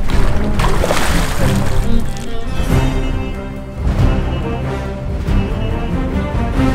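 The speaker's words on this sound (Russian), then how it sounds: "Подо мной волны, Саня." Waves slosh and slap against a small fishing boat on the Rybinsk Reservoir, a steady broadband wash of water lapping the hull close by, with no talk over it.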